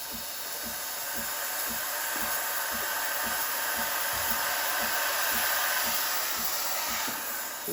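The steam wand of a Breville Barista Express BES870 froths milk in a jug, a loud continuous hiss and roar that stays steady for the whole stretch with a faint regular low pulsing beneath it, no voices.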